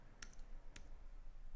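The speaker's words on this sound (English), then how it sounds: "So notice here I'm typing" Typing on a computer keyboard while entering database code, with two sharp isolated key clicks close by against a quiet low hum.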